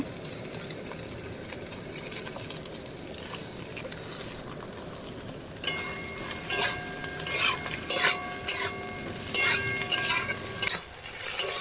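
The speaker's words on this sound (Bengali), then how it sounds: "পেঁয়াজ ক্যাপসিকাম ভাজা হয়ে গেছে" Onion and capsicum frying in hot oil, a steady soft sizzle with stirring and scraping strokes that grow busier and more rhythmic midway, metal utensil clinks over the pan, no voices.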